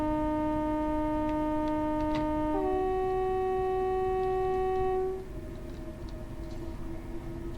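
Class 375 electric train accelerating in Train Sim 2020 between Strood and Maidstone West, a steady tonal motor whine of stacked harmonics that steps upward in pitch, then thins out under a continuous rumble.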